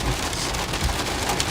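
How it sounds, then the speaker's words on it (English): Heavy pouring rain during a tornado outbreak in Tennessee and Kentucky, a dense, loud, continuous roar of water hammering surfaces, with no voices. "it's just pouring rain"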